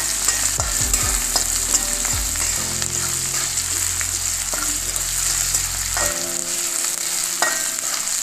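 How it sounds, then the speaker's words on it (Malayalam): Sweet potato with onion and salt frying in a pan, stirred hard: a loud, continuous sizzle with dense scraping and rustling strokes throughout, close up, with no voices. "ഉപ്പ് ചേർത്ത് കൊടുത്തു നന്നായിട്ട് ഇളക്കി കൊടുത്ത്"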